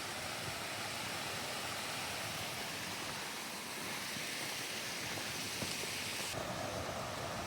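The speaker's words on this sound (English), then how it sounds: "I'm guessing that's the Gibbs Brook then." Gibbs Brook in the White Mountains' Presidential Range, a steady broadband rush of flowing water close by, continuous and fairly loud with no voices over it.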